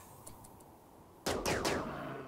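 Gunfire in the video game Rimworld comes as a few faint distant pops, then three loud, close shots in quick succession, each ringing out briefly over a steady background hum.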